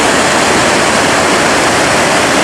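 A powerful waterfall in Iceland roars up close as a dense, steady rush of falling water that stays loud and unbroken throughout, with no voices over it.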